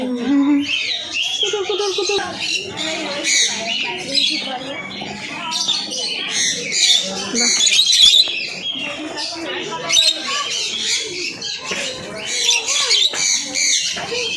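A flock of birds squawks and chatters loudly and continuously, harsh calls overlapping close by, with voices mixed in at times.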